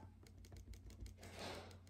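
Rapid mouse clicking while playing Cookie Clicker, a quick run of sharp, evenly spaced clicks, fairly faint, followed by a brief hissy game sound.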